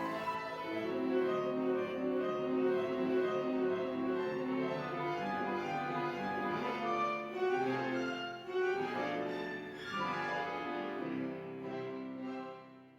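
A Duo-Art reproducing piano plays a roll of Grainger's solo-piano arrangement of the Grieg Piano Concerto, with dense full chords and fast runs going on continuously and fairly quietly, no voices.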